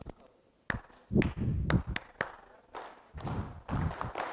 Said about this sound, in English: You should clap with me.